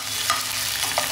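Crushed ginger and garlic frying in about two spoons of oil, a steady close sizzle and hiss with a couple of faint stirring scrapes.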